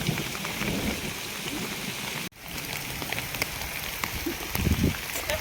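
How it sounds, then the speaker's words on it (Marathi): Steady monsoon rain pours down in the Konkan countryside, a dense continuous hiss of drops on leaves and ground, with a brief dropout partway through and no voices. "पाऊस पडतोय"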